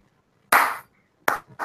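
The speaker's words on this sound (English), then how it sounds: "It's a slow clap." Slow clap for someone on a call: a single loud, close handclap, then after a pause a second clap with a third starting, each sharp and ringing briefly, with no talk over them.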